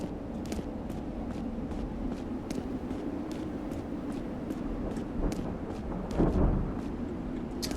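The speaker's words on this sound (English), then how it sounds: "I do like that we're constantly hearing that electrical storm even as we're down here." An electrical thunderstorm in the video game Metal Garden rumbles steadily as a low, dense background roar, with a louder swell near the end and scattered sharp crackles.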